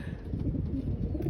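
Racing pigeons in a loft coo softly under a constant low rumble of background noise, their calls faint and blended into the ambience before a training release across the sea.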